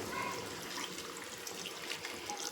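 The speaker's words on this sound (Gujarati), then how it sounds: "જો આ ગરમ પાણી લઈ લીધું છે અને એને આમાં એડ કરી દેવું" Hot water is poured into a cooking pot in one continuous, even splashing stream that lasts the whole moment at moderate loudness.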